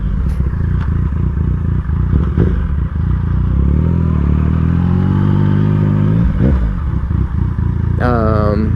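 A Yamaha MT-09 motorcycle engine runs with a steady low rumble and some clatter, then a short rising rev near the end, with a voice talking over much of it.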